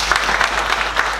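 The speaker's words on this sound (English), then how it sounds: "I think they all deserve a big round of applause" A school audience at an interschool debate competition applauds the debaters, a brief burst of loud, close clapping with a few sharper individual claps standing out.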